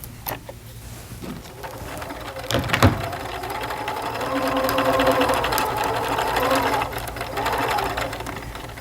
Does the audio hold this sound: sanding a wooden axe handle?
no